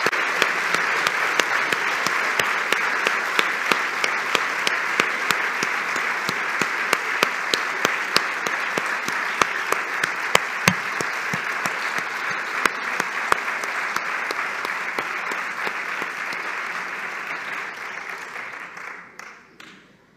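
Sustained audience applause at a school diploma ceremony, dense steady clapping from a large crowd that holds for about seventeen seconds before tapering off near the end.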